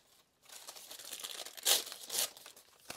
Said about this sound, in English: get some more parchment paper.